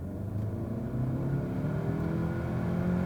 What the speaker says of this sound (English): I'll go full throttle in normal drive mode, not sport or anything,